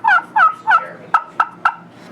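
A hand-held turkey call imitates a hen turkey, three drawn-out clucking yelps followed by three sharp, clipped clucks, loud and close in steady rhythm with no speech.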